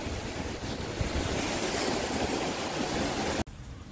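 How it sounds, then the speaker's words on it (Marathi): Ocean waves surge and crash on Harnai beach near the sea fort, a loud continuous roar of surf mixed with wind that cuts off abruptly just before the end. "बघा किती लाटा येतात."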